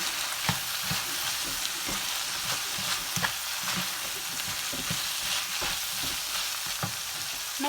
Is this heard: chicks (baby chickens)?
no